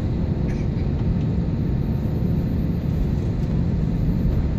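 Steady low rumble inside a Philippine Airlines A321 airliner cabin before takeoff, a continuous engine and cabin drone with no talk over it.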